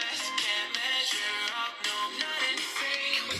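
A song played from YouTube through a phone's speaker at full volume, dense continuous music with a thin, bright, slightly harsh tone throughout, no one talking over it.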